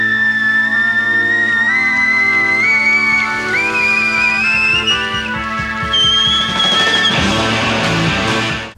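Loud, clear melodic whistling from a live televised music performance rises over a band backing of steady chords, the whistled line climbing in pitch before the full band swells near the end.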